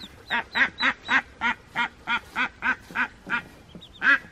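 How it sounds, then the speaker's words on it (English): Ducks and ducklings quack close by, about a dozen evenly spaced, loud quacks in a steady rhythm. "We had 7 little ducklings."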